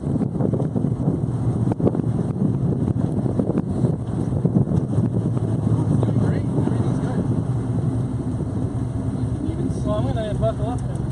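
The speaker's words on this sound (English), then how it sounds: "It actually idles smoother than it did before" A car engine converted from a carburetor to Holley Sniper EFI, idling as a steady low rumble with wind buffeting the microphone and people talking over it.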